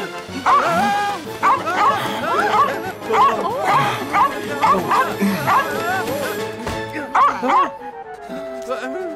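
A dog in a children's cartoon barks: a rapid series of high, yappy barks and yips, loud and close, repeating in quick bursts before a short tonal ending.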